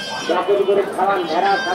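A sheep bleats close by at a goat market in a couple of wavering cries, with a voice speaking over it.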